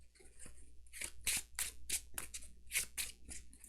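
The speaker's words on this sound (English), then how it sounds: "And then we shuffle." Deck of cards shuffled during an Arkham Horror card game, a run of crisp riffling bursts and snaps, about eight quick repeated flutters close by with no talking.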